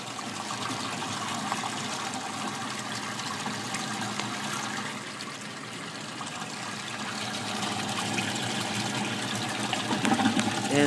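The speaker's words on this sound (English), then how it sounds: "And still it is draining out. And all of the siphons are still going." Water draining through the siphons of an aquaponic vegetable growing system, a steady rushing trickle with gurgling that swells slightly toward the end, continuous throughout.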